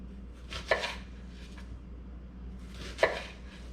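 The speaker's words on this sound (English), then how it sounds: "we are going to put the blade right here parallel to the onion and cut" A kitchen knife slices through an onion on a cutting board while dicing it: two crisp, close cuts spaced a couple of seconds apart, each a short sharp tap over a quiet room.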